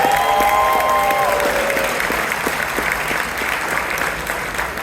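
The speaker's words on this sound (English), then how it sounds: "Can we please give another round of applause to Delia Ramirez?" A gala audience gives a round of applause for Delia Ramirez, a broad, steady wash of clapping that fills the room and slowly tapers, with a brief tonal ring at the start.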